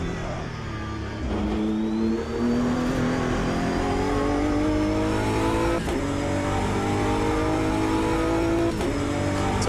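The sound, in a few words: race car driving at Monza in the sim game Automobilista 2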